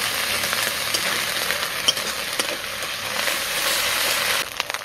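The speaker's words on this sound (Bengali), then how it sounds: "রসুন বাটা আর আদা বাটা দিয়ে আরও 2 মিনিট ভেজে নেব, যাতে রসুন আর আদার গ্যাসটা চলে যায়" Fried onions cooking with garlic paste and ginger paste in a pan, giving a loud, continuous sizzle with occasional stirring scrapes, close up and without talk.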